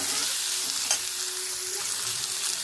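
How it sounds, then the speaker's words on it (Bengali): Potatoes with salt and turmeric sizzle steadily in a hot frying pan while being stirred, a continuous close crackle with occasional scraping, no talking. "কেটে রাখা আলু, লবণ, হলুদ দিয়ে ভালোভাবে নেড়ে নেব।"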